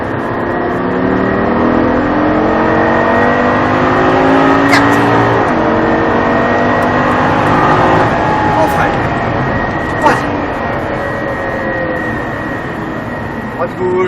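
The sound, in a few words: Lamborghini LP 560 accelerating with wheels turned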